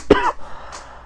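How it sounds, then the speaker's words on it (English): A single sharp cough up close, followed by a brief throaty rasp. "I got a cough."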